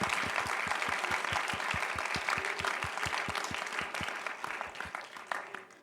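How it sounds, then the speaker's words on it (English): Audience applause at a conservation startup accelerator pitch event, steady clapping from a room of listeners with a few distinct louder claps standing out, holding level then thinning slightly toward the end. "Let's give them a round of applause."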